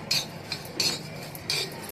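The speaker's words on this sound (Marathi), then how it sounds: "धने जिरे पण छान भाजले," Coriander seeds and cumin being roasted on a hot tawa after the gas is switched off: three evenly spaced bursts of metal spatula scraping against the pan, close and crisp, over a quiet background with no speech.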